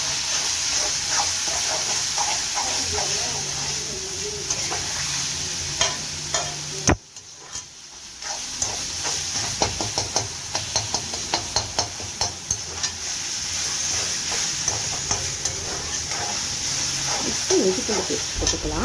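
Onions and tomatoes sauté in a pan for an iral (prawn) gravy, with a steady sizzle and hiss under scattered stirring clatter. The sound cuts out briefly partway through, then returns with sharper spoon taps against the pan.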